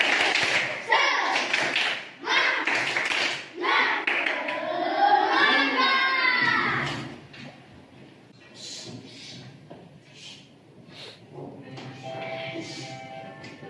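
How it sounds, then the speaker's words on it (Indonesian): A group claps a quick rhythmic spirit-clap pattern of sharp, close hand claps in a school classroom lesson, followed by voices chanting and talking over a softer background. "Tepuk semangat"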